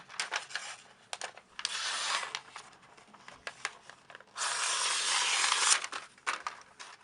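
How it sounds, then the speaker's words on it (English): Blade slicing wrapping paper wrapped around a tube, faint close scraping and tearing strokes in short bursts, with two longer steady cuts, alone without talk. "Slide this over the tube and put the blade on the inside. I'll cut a little extra."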